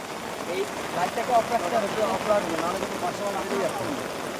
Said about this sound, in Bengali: এখন বৃষ্টি শুরু হয়ে গেছে এই বৃষ্টির ভিতরে ভিজে ভিজে আমরা মাছ ধরছি